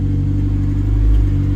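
A Mazda 5 engine idles close and loud with a deep, steady rumble and faint ticking from an exhaust leak, no voices over it.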